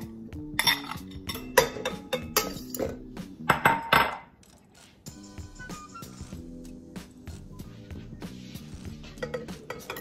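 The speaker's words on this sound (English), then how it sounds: "you want to cream your butter and your cream cheese together" Butter and cream cheese being creamed together in a bowl for a lemon cream cheese pound cake, with clinking and scraping of utensils against the bowl at first, then a quieter stretch of softer mixing, close up.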